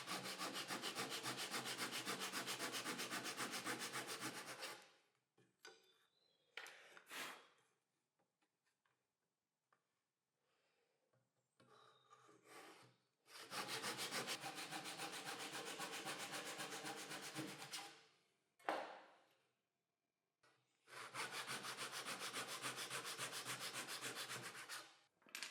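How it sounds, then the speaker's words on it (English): Hand saw cutting curly maple in an adjustable miter box set to 22.5 degrees, three long bursts of rhythmic rasping strokes separated by pauses with faint handling clicks, close and steady. "After cutting at an angle the 8 required parts"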